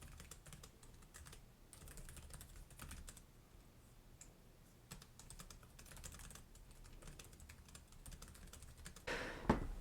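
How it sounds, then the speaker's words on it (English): Fast, light keystrokes come from the keyboard of a 2025 Lenovo Yoga Book 9i laptop, continuous and close with brief gaps, ending in a louder clatter. "So fantastic typing experience,"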